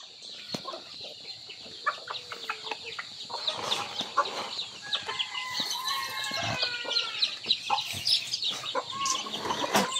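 Backyard chickens clucking in their coop at nightfall, a busy cluster of short clucks and squawks with a rooster's crow-like calls rising midway, near and continuous without speech.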